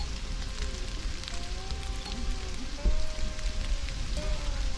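Steady rain patters across the ground in the survival game Stranded: Alien Dawn, a dense, even hiss with soft droplet ticks and faint tonal game sounds threading through, holding constant throughout.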